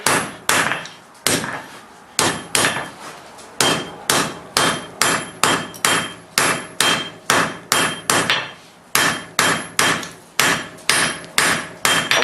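Hammer blows on hot steel at an anvil while tapering the jaw of bolt jaw tongs, loud sharp ringing strikes in a steady rhythm, each followed by a short decay, with brief pauses between runs.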